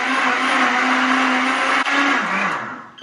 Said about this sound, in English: this is my milkshake blender